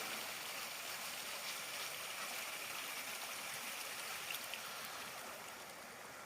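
A river flows through a Peak District valley, a steady broadband rush of running water, soft and fairly distant, with no talking.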